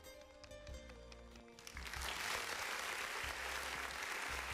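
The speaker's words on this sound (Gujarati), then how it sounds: "તો સૌ પ્રથમ પહેલા આપણે તાળીઓ પાડી આપણા દાતાશ્રીઓ માટે" Audience at a Shree Umiya Parivaar community get-together in Morbi applauds for the event's donors. Dense, steady clapping swells in partway through after softer tonal sound and carries on loud to the end.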